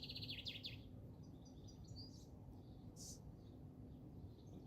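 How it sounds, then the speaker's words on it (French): Birds singing outdoors near an apple tree, several quick chirps and short warbled phrases, faint and distant over a low steady background rumble, no voices. "vous entendez les oiseaux"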